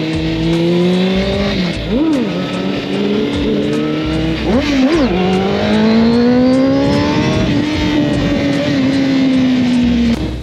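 A loud Honda CBR600 sport motorcycle engine revs high and holds close by during a wheelie, its pitch dipping and climbing in quick blips before settling into a long, sustained drone.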